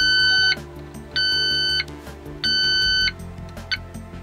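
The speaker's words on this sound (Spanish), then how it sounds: "yo os hago la demo de cómo llega a pitar cuando detecta un poco de gas" Three long electronic beeps from a gas detector alarm in a camper van, each under a second, with a short chirp at the end, loud and close against a low background hum.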